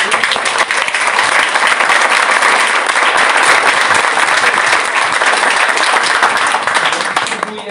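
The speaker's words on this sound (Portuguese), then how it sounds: "Uma salva de palmas para gente." Sustained audience applause fills the air after a talk on edible wild plants and survivalism at a bushcraft gathering, loud and dense throughout, fading slightly at the end.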